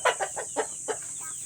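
A Black Australorp hen laying eggs gives a run of five or six quick, close clucks in an uneven rhythm, over a steady high hiss.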